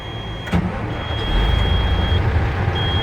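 A diesel truck with air brakes starts up, a loud engine rumble swelling after a short crank, with a steady high beeping tone running over the idle.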